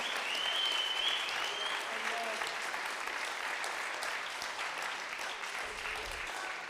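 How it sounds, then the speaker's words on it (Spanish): A church congregation claps in praise of God, a dense, even patter of many hands holding steady throughout at moderate loudness, with faint voices blended underneath. "Fuerte ese aplauso a nuestro Dios."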